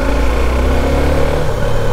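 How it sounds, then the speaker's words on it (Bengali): A Suzuki V-Strom SX 250 motorcycle engine runs steadily after starting, a loud, close, even idle rumble with a constant low drone and no voices over it. "ক্লাচটাকে চিপে স্টার্ট দিতে হবে, আর গাড়ি দেখেছো স্টার্ট নিয়ে নিয়েছে"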